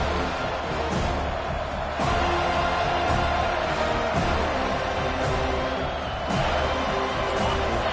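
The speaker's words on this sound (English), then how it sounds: "This crowd bringing an ear-splitting welcome to their visitors." A football stadium crowd roars loudly and continuously, a dense wash of cheering with periodic sharp bursts.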